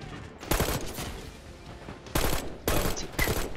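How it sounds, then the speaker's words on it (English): Triple burst marksman rifle firing in Black Ops 6, three loud sharp bursts of rapid shots separated by short pauses. "it's a triple burst marksman rifle"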